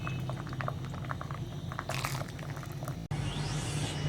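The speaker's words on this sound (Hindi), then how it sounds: "अब मैं इसको फ्राई करूंगी।" A half-moon chicken pie frying in hot oil, giving a fairly quiet, steady bubbling hiss with one brief louder burst of crackle midway, heard alone.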